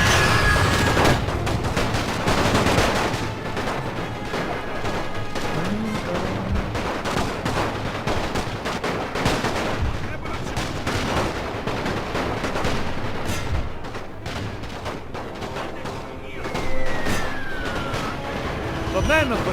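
Artillery booms and rattling rifle fire roll across a Great War mod battle in Napoleon Total War. Dense, continuous volleys go on at close and middle distance, with someone talking over the din.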